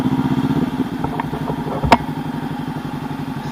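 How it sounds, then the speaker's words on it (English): A 2019 Honda CB500X sits idling as its engine warms up in winter, a steady low throbbing pulse close by, with a single sharp mechanical clank partway through and no talk. "let the engine heat up before"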